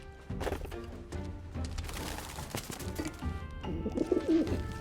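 Repeated soft cooing of a pigeon or dove in the Final Fantasy VII video game, the calls surfacing over busy background music and ambience, fairly close, with no talking.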